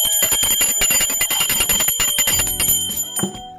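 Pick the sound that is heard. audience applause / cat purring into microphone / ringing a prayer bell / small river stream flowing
ringing a prayer bell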